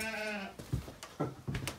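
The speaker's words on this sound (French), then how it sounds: "On les entend d'ailleurs, les moutons." Sheep bleating inside a barn, one long wavering bleat up close followed by several shorter calls in quick succession.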